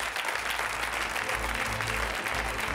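A studio audience at a televised reality-show debate claps steadily, a dense, loud wash of applause filling the whole moment without pause.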